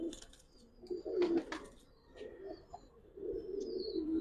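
Giribaz pigeons give soft, low, repeated coos close by, with a few faint higher chirps and rustles between calls and no talking.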